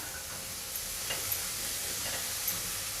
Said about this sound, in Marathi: आता हे मी व्यवस्थित असं परतून घेते